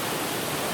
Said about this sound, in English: I thought this waterfall here is really cool